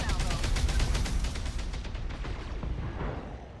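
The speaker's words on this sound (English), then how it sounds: "Firing a full salvo." A mech in the video game BattleTech fires a full weapon salvo: a loud, dense burst of overlapping gunfire and artillery-like blasts, rapid repeated cracks rolling into a booming tail that fades toward the end.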